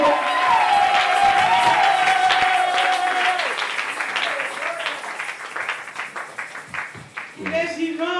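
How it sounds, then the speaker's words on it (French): A church congregation at a worship service in Binza Ozone applauds and cheers loudly for the Lord, with sustained clapping and shouts while a preacher's voice rings over the crowd, the applause thinning into scattered claps toward the end. "Acclamez plus fort le Seigneur, derrière, acclamons."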